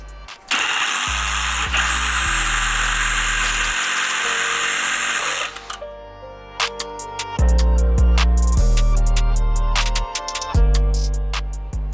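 A power tool cuts off plastic brackets in a BMW B58 engine bay to make room for a larger heat exchanger. A loud, sustained high whine runs first, then short, stop-start bursts with stepping pitch.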